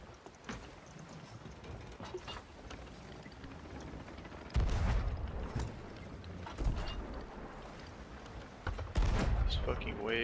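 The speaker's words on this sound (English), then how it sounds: "Left side cannons." Ship cannons firing in the video game Sea of Thieves during an arena sloop match, with booming blasts at about 4.6, 6.7 and 9 seconds over steady wind and sea noise, while a player talks.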